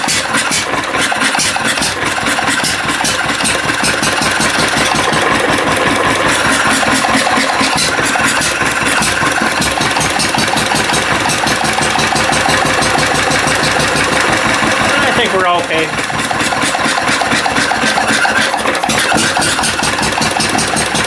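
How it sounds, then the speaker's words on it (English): An old Wolseley car engine runs at a loud, steady idle throughout, with a rapid regular chugging rhythm close to the microphone; a voice speaks briefly over it. "This is a proper old engine, this thing,"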